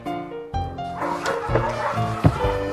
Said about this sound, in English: I woke up to the sound of much barking